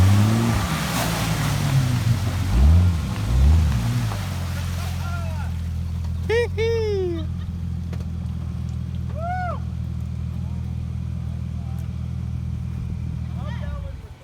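An off-road vehicle engine revving hard as it climbs out of a deep mud bog in a forest, a loud low growl surging early then holding a steady drone, with people talking and calling out over it.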